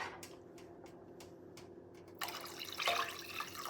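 Water poured into a 4-quart pot on the stove, starting with faint drips and then a fuller splashing pour that swells near the end, no talk.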